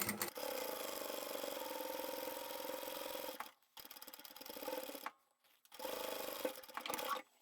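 A sewing machine stitches in the ditch of a seam on a tapered toiletry bag, running in a steady whirring rattle close by, stopping briefly twice before starting up again.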